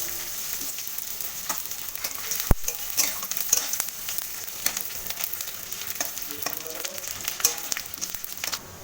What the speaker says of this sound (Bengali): কড়াইতে আমার সর্ষের তেল গরম হয়ে গেছে, এবার আমি টুকরো করে রেখে দেওয়া শুটকি মাছটা তেলে ভেজে নেব ভালোভাবে।